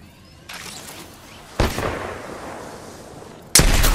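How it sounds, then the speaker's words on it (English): Gunfire in the video game Apex Legends comes as a few sharp bursts, each decaying into a rumbling tail, the last one loud and close, with no talking. "Listen up, I'm getting shot at."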